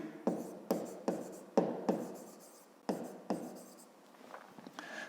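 Pen strokes on paper as a Ukrainian fifth-grade math exercise is written out, a series of short sharp scratching taps in irregular bursts, close and fairly soft, with a faint voice near the end.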